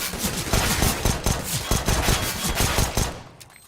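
Rapid pistol fire from a P250 in Counter-Strike, a quick string of sharp, loud shots in close succession that stop abruptly, leaving a short fading tail.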